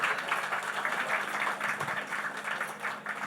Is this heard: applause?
yes